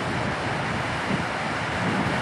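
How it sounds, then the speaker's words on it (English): A waterfall in the Hamilton area roaring during rapid spring runoff, a dense, steady rush of falling water that fills the clip without pause, loud and close. "this is just one of the over 100 waterfalls that are in the Hamilton area"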